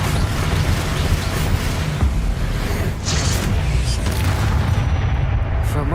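Fire spells explode again and again in the Hogwarts Legacy video game, a loud, dense, continuous roar of booms and rumbling blasts with almost no pause.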